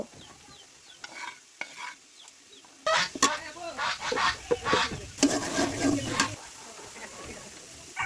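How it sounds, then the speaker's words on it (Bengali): Spices sizzle and scrape in a wok as a utensil stirs them in bursts, with faint bird clucking in the background. "এখন এই মশলাগুলো খানিকক্ষণ কষিয়ে নিব"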